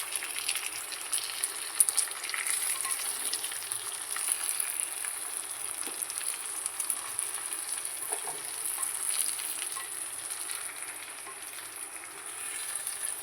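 Stuffed ridge gourd pieces fry steadily in a pan, a continuous close hiss and crackle with occasional faint taps as they are turned over.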